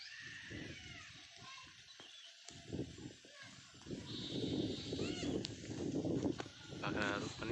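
Goats bleat in a harvested wheat field in rural Nepal while neighbours graze their herd beside a buffalo calf; repeated nasal bleats rise over a steady outdoor background, growing louder and more frequent in the second half.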